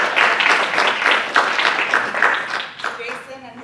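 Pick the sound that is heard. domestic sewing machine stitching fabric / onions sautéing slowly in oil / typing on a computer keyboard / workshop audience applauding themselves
workshop audience applauding themselves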